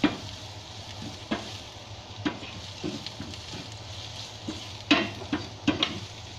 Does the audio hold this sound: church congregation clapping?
no